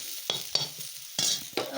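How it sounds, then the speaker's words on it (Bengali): Potatoes and bitter gourd frying in a pan give a steady sizzle, broken by four sharp scraping bursts as a spatula stirs them. The sound is close and fairly quiet, with no talk. "আর আলু উচ্ছে ভাজা করছি"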